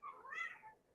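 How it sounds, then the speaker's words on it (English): A hungry cat gives one loud, drawn-out meow of about a second, close and clear, rising and then falling away. "a cat that's screaming at me for food."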